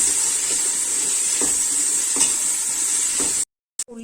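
Onions with ginger garlic paste sizzling in a pan for chicken biryani, an even loud hiss with soft stirring scrapes, cutting out abruptly near the end.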